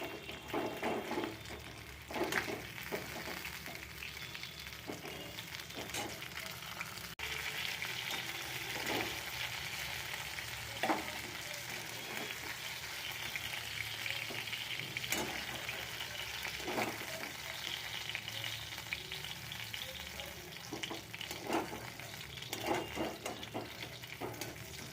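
Pieces of rui fish fry in oil in a pan, giving a soft, continuous sizzle with scattered small pops and crackles, fairly faint and steady throughout.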